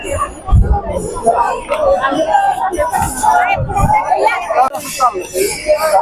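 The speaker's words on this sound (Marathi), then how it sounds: "प्रचंड गर्दी" A huge crowd of pilgrims at the wari procession makes a dense, loud babble of many voices, with shouts and calls rising over a constant hubbub.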